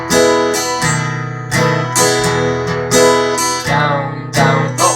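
An acoustic guitar strums chords in a down, down, up pattern through a bar of a song, loud and close with bright, rhythmic strokes; the metronome clicks are not distinct under the strumming.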